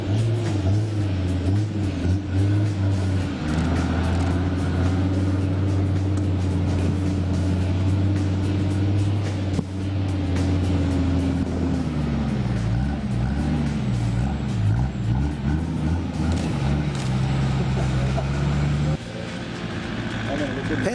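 Nissan and Toyota 4x4 trucks grinding up a steep hill, engines droning loudly and continuously with shifting revs and labouring pitch changes throughout, close and dominant.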